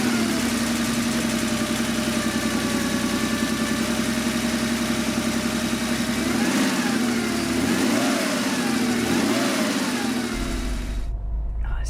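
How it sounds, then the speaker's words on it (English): Air-cooled Porsche 930 911 Turbo with a 3-litre turbocharged engine idling steadily close by, its rumble swelling in a few blips of revving before cutting off abruptly near the end. "Let's start the 930 3 litres turbocharged engine so we can hear it catch."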